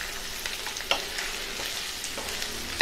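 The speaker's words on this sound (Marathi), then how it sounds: "तिखट धणेपूड छान मिक्स करून घेऊ" Brinjal and potato bhaji being stirred in a pan with chilli and coriander powder, a quiet continuous sizzle with light scraping strokes and a couple of small utensil clinks; no speech.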